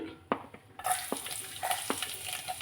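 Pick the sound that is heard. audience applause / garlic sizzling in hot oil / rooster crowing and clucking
garlic sizzling in hot oil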